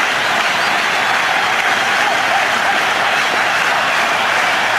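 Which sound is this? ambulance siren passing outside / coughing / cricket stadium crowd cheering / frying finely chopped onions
cricket stadium crowd cheering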